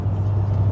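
A 6.1-litre Dodge SRT8 V8 rated at 425 hp runs with a deep, steady low rumble, a close and sustained engine drone with no other sound over it.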